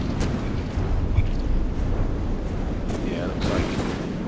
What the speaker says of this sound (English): Did you just blow yourself up?